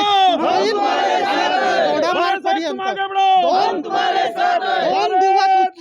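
Political party workers celebrate a candidate's lead in Kankavli, Sindhudurg, chanting and shouting together in loud rhythmic waves of massed voices, with short dips between the bursts.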